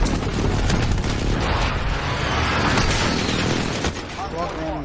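Gunfire in the Modern Warfare video game on a houseboat map, a dense continuous rattle of shots and booms filling the whole stretch, loud and close, with a brief whistling sweep near the end.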